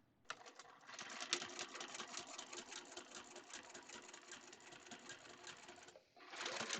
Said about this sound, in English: we are going to sew these in place using a 1/4-inch seam from one point to the next